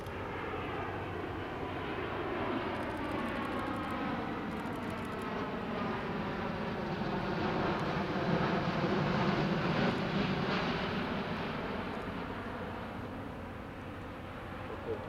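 A Boeing 787-9 Dreamliner flying display at Farnborough Airshow 2014: a continuous, powerful jet engine roar that swells and fades slightly as the airliner passes, sustained throughout.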